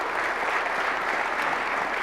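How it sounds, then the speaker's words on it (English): At an investor conference, an audience gives a round of applause to welcome a guest speaker, a dense, even wash of clapping heard close and steady throughout. "please give a round of applause"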